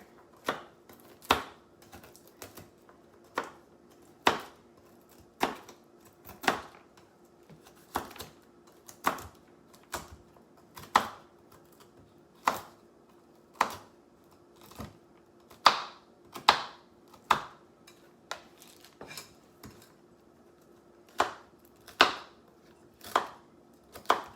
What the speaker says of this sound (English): Please do not criticize my chopping.